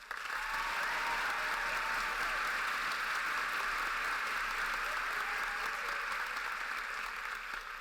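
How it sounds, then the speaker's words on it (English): Audience applause at an art and design college commencement ceremony, a dense, steady roar of clapping filling the hall for nearly eight seconds at constant loudness, with no voices over it. "please join me in a round of applause for Harley."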